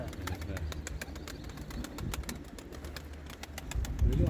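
A female roller pigeon settles onto a rooftop while several flutters of wings and soft bird sounds carry near, with voices talking faintly beneath.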